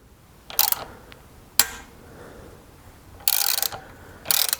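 Bolt extractor working a broken bolt out of an engine, giving several short metallic ratcheting bursts separated by pauses, close and moderately loud with no talk.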